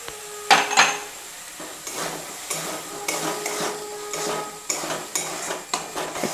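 Cashew paste is spooned into a pan of paneer butter masala gravy, with close, sharp scrapes and knocks of a spoon against the metal pan in irregular bursts over a faint sizzle.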